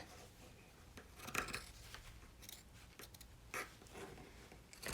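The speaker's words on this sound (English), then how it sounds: "cut towards your opening there on both sides" Scissors snip through fabric while a flip-flop potholder is trimmed, giving irregular crisp cuts and rustles spread across the stretch, close and quiet.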